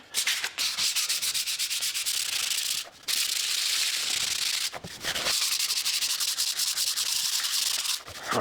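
Sanding a wooden anvil stand to smooth high spots, steady abrasive rubbing strokes in long passes with a few brief pauses, close and alone.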